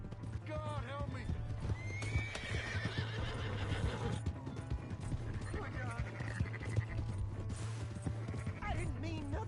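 A horse in a video game whinnies several times over rapid clip-clop hoofbeats while galloping, with game voices and a steady low hum underneath.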